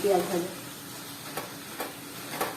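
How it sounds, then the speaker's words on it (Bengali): Fried onions being stirred into a prawn and snake gourd curry in a pan, with a low sizzle underneath and several sharp scraping taps of the spoon spaced across the moment. "পেঁয়াজ ভাজাটা ভালো করে মিশিয়ে নিতে হবে এর সাথে।"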